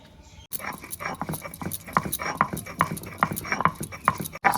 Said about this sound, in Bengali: তো প্রথমে আদাগুলো বেটে নেব